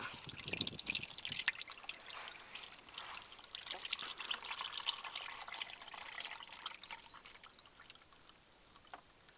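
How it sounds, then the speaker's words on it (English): Old engine oil drains from the oil pan of a 1996 Isuzu Rodeo, a close, steady trickling pour with light splashing that eases slightly toward the end. "you want to have your oil pan underneath it because it's going to start flowing out."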